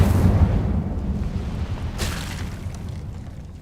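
Incendio fire spell cast in the Hogwarts Legacy video game, a loud booming fiery burst that rolls on and slowly fades, with a brief sharper flare partway through.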